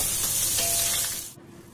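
Paneer fries in leftover oil in a kadhai for a restaurant-style navratan veg korma, a loud, close, hissing sizzle that cuts off after about a second.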